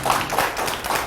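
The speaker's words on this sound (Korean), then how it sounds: "그렇게 하시겠다는 분만 박수." An audience at a speech claps together in a brisk, rhythmic burst, moderately loud and roomy, with a faint voice underneath.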